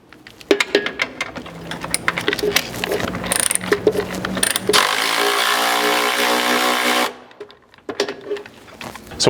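A ratchet with a 13mm socket removes bolts while a rock slider is installed on a Ford Ranger: close, loud clicking turns, then a sustained whirring burst, then a few more clicks.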